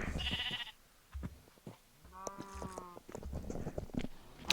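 Sheep in the video game Minecraft give one clear nasal bleat near the middle, among soft footsteps and clicks in a quiet game scene.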